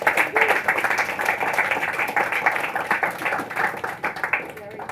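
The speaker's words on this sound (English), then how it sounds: "Can we give her a round of applause?" Audience applause at a photography workshop, a continuous bed of clapping heard at moderate distance with talking and voices mixed in throughout.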